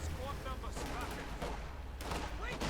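Gunfire and bursts from a Company of Heroes 2 real-time strategy battle with US forces against the OKW, a dense rumbling fusillade with scattered shots under ongoing battle noise and voice.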